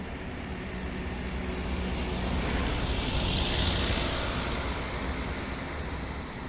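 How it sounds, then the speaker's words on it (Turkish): A helicopter flies over a fire with smoke rising, its steady broadband engine and rotor roar swelling slightly mid-clip then easing, continuous and moderately distant with no talking. "Aa helikopter bak gidiyor bak."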